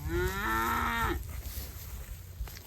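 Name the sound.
Angus cow mooing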